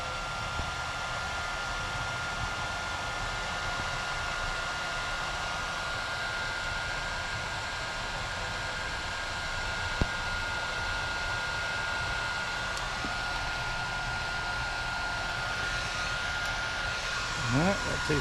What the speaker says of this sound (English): Now heat shrink this.